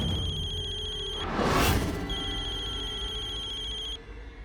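A telephone rings with a steady electronic bell tone. A loud whoosh cuts through it partway, and then the ringing resumes and stops.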